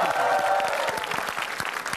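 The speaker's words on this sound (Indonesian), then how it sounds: "Tepuk tangan boleh." Studio audience applause at a televised stand-up comedy battle, a brisk, dense burst of many hands clapping that is fairly close and steady, fading slightly toward the end.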